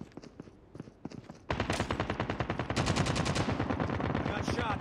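Automatic gunfire in the mobile shooter Call of Duty Mobile, sparse shots at first, then long dense bursts of rapid, loud fire that carry on to the end.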